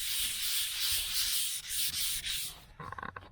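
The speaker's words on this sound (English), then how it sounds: "Just sand it till it's smooth." Hand sanding of car body filler on a 2002 Chevrolet Avalanche, steady close rhythmic scratchy rubbing strokes that end in a few quicker light scrapes.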